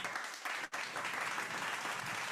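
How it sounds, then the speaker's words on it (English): Audience clapping rolls on as a dense, even wash through a short stretch, with one brief dip near the middle. "I think I can get a hand clap for that."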